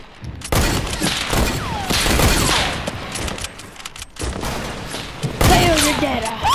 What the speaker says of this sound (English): Oh no, it's a sniper battle.